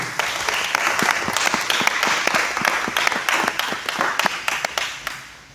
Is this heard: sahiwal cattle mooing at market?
no